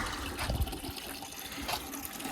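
Water runs into a watering can in a garden, giving a soft gurgling fill sound with small splashes, faint and brief.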